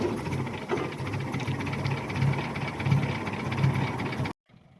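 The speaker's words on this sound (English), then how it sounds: "you're going to push down on the handle like that to make the engine go round" A vintage Alvis 12/50 car engine, started by hand crank, idles with a steady low rumble and rhythmic knocking pulses, close and fairly loud, before cutting off abruptly near the end.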